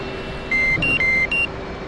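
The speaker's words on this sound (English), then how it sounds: "let's get the cockpit up, or canopy up" An F/A-18 canopy opening in the DCS World flight simulator, heard as a short series of steady electronic warning tones, four brief beeps at two alternating pitches over a constant cockpit hum.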